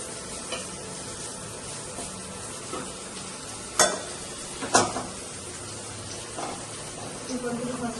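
Bitter gourd frying and being stirred in a pan with spices, giving a soft continuous sizzle broken by a few sharp scrapes and knocks of the spoon against the pan.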